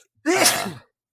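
A single sharp sneeze bursts out loud and close, one explosive exhalation lasting about half a second, alone with no talk around it.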